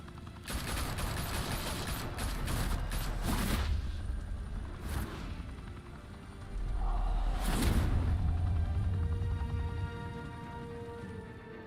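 Bursts of gunfire in the Batman: The Telltale Series game, a volley of shots with sharp cracks and booming impacts that rise and fall over several seconds.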